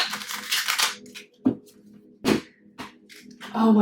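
A short tarot card shuffle: brisk riffling at the start, then isolated taps and quick flicks of the deck, heard close and alone with no talking.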